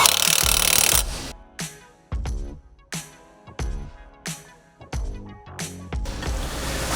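Fasteners on the front mount of a John Deere 3046R compact utility tractor are driven tight in a series of sharp, rattling power-tool bursts, about six short runs separated by brief pauses, close and loud with no talking.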